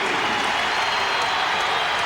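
Basketball arena crowd at a 1996 Kansas versus Iowa State college game, a broad steady roar of cheering and clapping from many fans, sustained and fairly distant without clear peaks.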